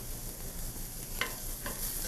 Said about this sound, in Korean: 당근은 익히지 않고도 먹는 야채이기 때문에 오래 볶지 않고 바로